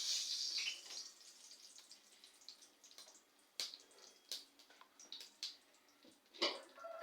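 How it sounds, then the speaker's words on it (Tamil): Mustard seeds spluttering in hot ghee in a pan while cooking a Tamil lunch dish, heard as scattered sharp crackles and pops that come in irregular bursts at moderate loudness, with no talking. "கடுகு நல்லா பொரிஞ்சிருச்சு."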